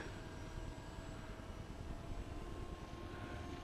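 Hobby King Bixler 2 RC airplane electric motor in flight, a faint steady whine and drone from a distance over constant wind noise, with no talking.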